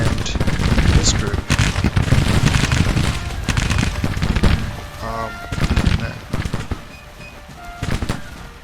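Civil War musket volleys in Grand Tactician: The Civil War, a loud, continuous crackle of massed rifle fire with scattered sharper reports, easing off midway then flaring again, while someone talks over parts of it.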